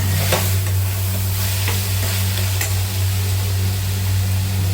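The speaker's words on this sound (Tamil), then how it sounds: "கிண்டிட்டு இந்த அரைச்சதையும் ஊற்றிக்கலாம். ஊற்றி கிண்டிடுவோம்." Ground paste being stirred into a pan for vegetable biryani, a steady close sizzle with a few scraping strokes of a spoon, over a constant low stove hum, with no voices.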